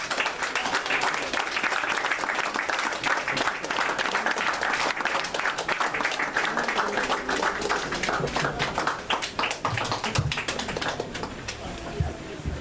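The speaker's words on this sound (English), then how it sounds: "Let's give her a big hand of applause, everyone" A crowd claps steadily for a speaker at a teacher's book launch, a sustained patter of many hands that stays fairly even throughout with occasional louder claps near the end.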